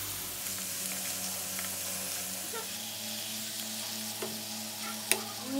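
Garlic and mushrooms fry in a pan with a constant close sizzle while a utensil stirs through them, adding occasional scrapes and a sharp clink near the end.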